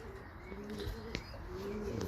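Pigeons cooing in a loft during a first flight session, soft low repeated coos close by with a few faint chirps over steady background hiss.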